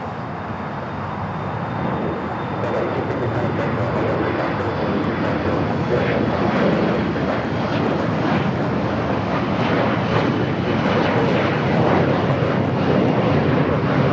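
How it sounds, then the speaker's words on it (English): An Alaska Horizon Embraer E-175 airliner takes off at LAX, a steady loud jet engine roar with rumble that holds strong throughout. "Next takeoff is Alaska Horizon and the Honoring Those Who Serve livery. It's on an E-175 heading to Vegas"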